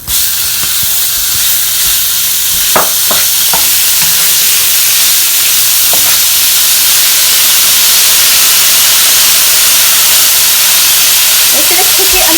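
Ground beef for Mexican-style tacos hitting a hot pan, a loud, steady hiss and sizzle with a few brief clinks early on and faint voices near the end.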